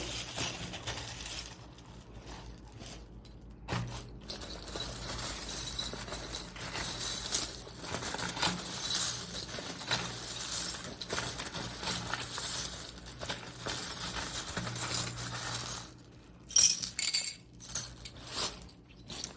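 Small tarot-reading charms are shaken and shuffled in cupped hands, giving quiet, intermittent clinking and rattling with short pauses and a brighter jangle near the end.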